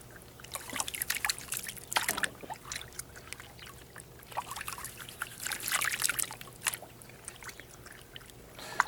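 Water splashing and trickling through a tilted gold sluice at the Chollar Mine, with irregular bursts of washing and pouring at moderate volume and no speech.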